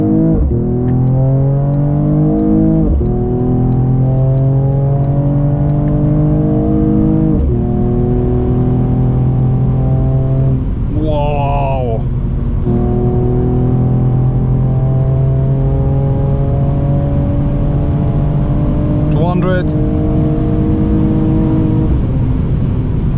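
A 2022 Mercedes-AMG CLS53 facelift launches at full throttle in race mode, its engine note climbing loud and close through several gear pulls, each upshift marked by a brief break before the pitch rises again, with no talk over it.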